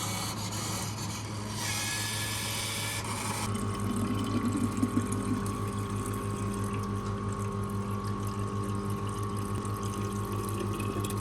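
Raw milk pours from a self-service vending station in rural Derbyshire, a steady pump hum with liquid flowing into a container, a brief harsher rush at the start before settling into a continuous, moderately loud whir.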